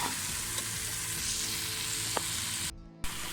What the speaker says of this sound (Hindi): और अब हम सब तीनों वेजिस को हम अच्छी तरीके से फ्राई कर लेंगे